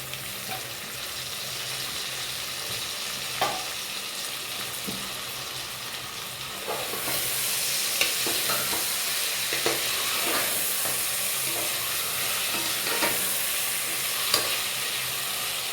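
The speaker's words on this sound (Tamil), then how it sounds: "இப்போ இது கூட கட் பண்ணி வச்சு தக்காளி சேர்த்துக்கிறேன்." Chopped tomatoes sauté in a pan with garlic for Chettinad mutton biryani, giving a steady hiss that grows louder partway through, with intermittent scrapes of stirring; no one talks.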